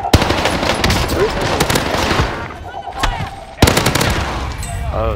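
Sharp, loud gunfire cracks ring out in a Call of Duty: Warzone trios match on Rebirth Island, with a hard shot near the start and another after a brief lull, amid busy in-game battle noise.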